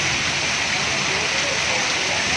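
Steady rain falls on flooded streets in Gujranwala, Pakistan, a constant dense hiss of water on wet surfaces filling the whole clip with no voices.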